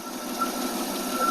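An engine idles steadily after a Holley 2-barrel carburetor rebuild, a close, even hum with a faint rhythmic pulse and no voices.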